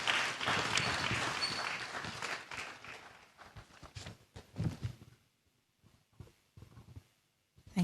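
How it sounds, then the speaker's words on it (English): An audience at an evening lecture applauding, a dense burst of clapping that fades out over about five seconds, followed by scattered footsteps and faint shuffling in a quiet hall. "Please give her a round of applause."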